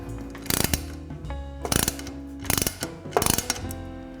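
A ratchet tightens a lock nut onto a bolt on a Glidecam Camcrane 200, with four quick clusters of clicking strokes separated by short pauses, close and clear.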